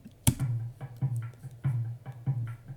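A looping bongo hand-drum pattern with low, resonant hits and lighter taps, repeating at an even, moderate tempo, in a cover of a song.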